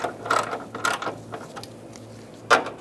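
A ratchet clicks in three short bursts while bolts are fastened on a Ford E-350 Super Duty headlight retainer bezel, with two quick runs close together and a final sharp burst after a pause.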